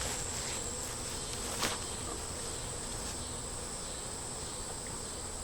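Honey bees hum steadily around an open beehive, a dense, continuous drone with no talking.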